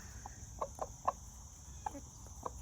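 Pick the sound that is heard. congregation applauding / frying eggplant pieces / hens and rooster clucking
hens and rooster clucking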